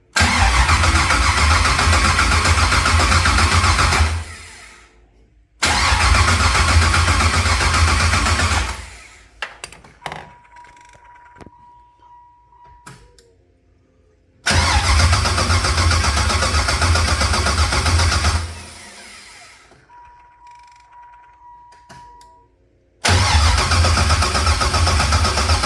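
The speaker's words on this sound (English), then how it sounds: "if I did, this, and the gas is good, this thing should start and run good." A 1993 Camaro with a swapped-in 5.3 V8 cranks loudly in long churning bursts, separated by quiet gaps with faint clicks and a brief chime, repeated several times without catching.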